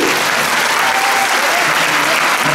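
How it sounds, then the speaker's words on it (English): Sustained applause fills a diplomatic reception hall, a dense, steady wash of clapping from a large crowd that holds loud and even for the whole stretch. "Please give a warm applause for the fashion show of the Nuli Cat."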